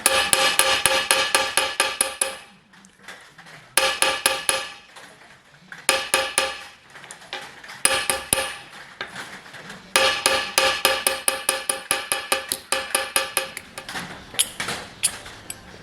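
Rapid metallic ball peen hammer blows dishing a small brass piece, in bursts separated by short pauses, each strike ringing brightly and close.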